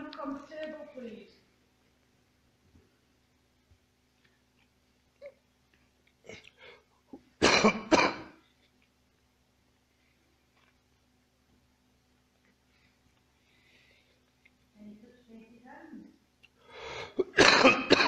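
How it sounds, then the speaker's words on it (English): Muffled coughs come from someone in another room, a couple of short harsh bursts separated by long quiet gaps, with faint voices nearby at the start and end. "Somebody coughing in the other room."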